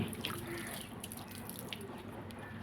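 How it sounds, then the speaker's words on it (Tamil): Water is poured over garden plants, a soft continuous splashing and trickle with a few drips, fairly faint and with no talking. "செடிகளுக்கு தண்ணீர் ஊற்றலாம் வாங்க."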